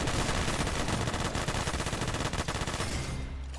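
A P90-upgraded gunner tower in the Roblox game Arena Tower Defense fires loud, dense automatic gunfire in a continuous rapid stream, easing off slightly at the very end.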